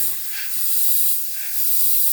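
A Gaahleri GHAC-98D airbrush sprays in two steady hissing bursts of air and paint, close and alone, with a short pause between them and a low rumble at the edges.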